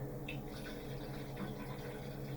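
Water being poured in during a kitchen preparation, a steady close splashing fill with a constant broadband wash and low hum, continuous for about two seconds with no talking.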